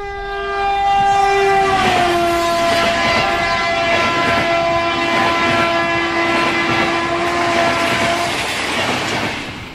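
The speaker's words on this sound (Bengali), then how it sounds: "শুক্রবার রাতে হাওড়া থেকে চক্রধরপুর প্যাসেঞ্জারে চেপে শনিবার সকালে পুরুলিয়া পৌঁছলাম।" Passenger train out of Howrah, used as a radio drama effect: a long, loud horn blast over steady rolling clickety-clack of wheels on rails, the rumble continuing close by throughout.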